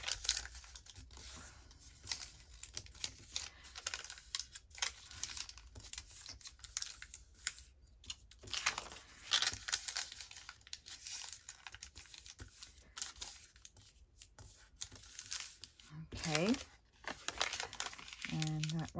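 Paper being folded and creased by hand to make library card pockets, a run of close, crisp crinkling and rustling with sharp scraping strokes throughout, and a faint voice speaking briefly near the end.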